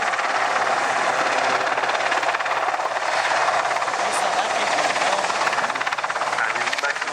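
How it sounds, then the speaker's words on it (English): A large helicopter of about 10 tons maximum weight hovers at the Cosford airshow, backing away and climbing. Its loud, steady rotor and engine roar fills the whole stretch close by without a break. "you'll be getting an amazing idea of just how big this helicopter is"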